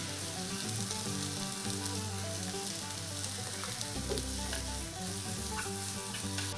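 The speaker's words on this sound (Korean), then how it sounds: "당근이 익으면 찹쌀풀을 넣고 볶아줍니다" Carrots stir-fried with glutinous rice paste and a pinch of salt, a steady close sizzle with soft stirring under a continuous melodic music track, no voices.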